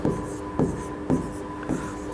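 Marker or chalk writing on a classroom board during a matrices lesson, four short scratchy strokes spaced about half a second apart, close and clear over a faint steady hum.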